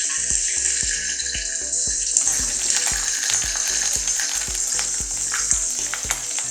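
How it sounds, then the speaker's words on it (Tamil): Green chillies and curry leaves sizzle and crackle steadily in hot oil for kadai paneer, a continuous loud frying hiss with rhythmic stirring knocks from a spoon against the pan, no voices. "எடுத்து வச்சிருக்க பச்சை மிளகாய் கருவேப்பிலையை போட்டுக்கோங்க"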